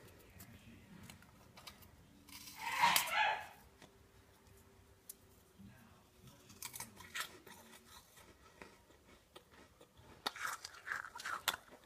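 Someone bites into a baked meringue cookie with one loud, crisp crunch, followed by quieter, intermittent chewing and soft crumbly crackles up close.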